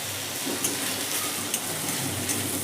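Tomato and a whole green chili sizzle in a hot pan of spices for a home-style chicken bharta, a steady, dense frying hiss with small pops and no voices.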